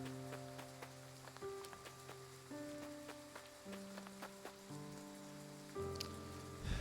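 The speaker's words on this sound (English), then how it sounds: "I doubt the rain will let up anytime soon." Steady rain falls in a video game, a constant hiss with pattering drops under sustained musical tones that shift in pitch every second or so, with no voices.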